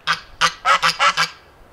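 Farm geese honk loudly and close by, six harsh nasal calls in quick uneven succession lasting under two seconds, with no voices.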